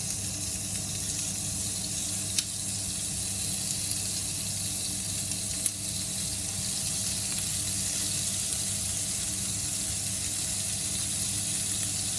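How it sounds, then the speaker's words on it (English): Strip steak sizzling on a hot Tefal OptiGrill XL, a steady, close, even crackling hiss running the whole time with a couple of small pops and no talking. "I'm going to lay my pieces of strip steak on the grill"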